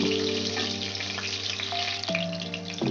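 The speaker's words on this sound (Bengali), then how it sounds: "চিকেনগুলো মোটামুটি সেভেন্টি পার্সেন্ট ভাজা হয়ে গেছে" Chicken pieces fry in a batch of hot oil, a continuous loud sizzle and crackle close up, with a steady background hum and a few light clatters.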